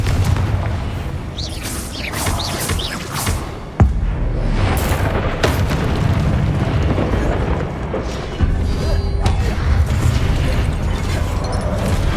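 A Confringo fire spell bursts in the Hogwarts Legacy video game amid a busy game soundscape, with sharp booming blasts and rumbling impacts, one louder explosive hit standing out midway.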